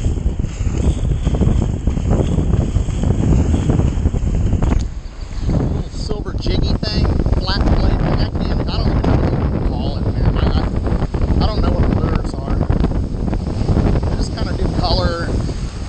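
Strong wind blows across the microphone while fly fishing, a loud continuous roar and buffeting with gusts, and someone talks over it.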